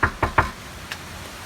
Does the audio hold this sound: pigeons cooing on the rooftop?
no